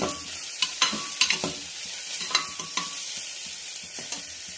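Softened onions sizzle and sauté in a pan for mutton soup while a spoon stirs them in repeated scraping strokes. The sounds are close and irregular over a continuous frying hiss.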